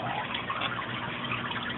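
Water from an overflow box drips and trickles over bioballs into a lower compartment of an aquarium sump, a continuous steady splashing wash heard close up with no voices.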